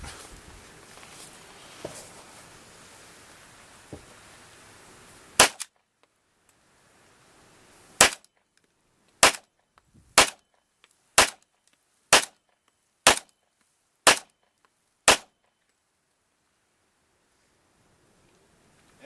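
A Hi-Point pistol fires about nine sharp, loud gunshots at close range, most spaced roughly a second apart after an initial lone shot, with quiet between them.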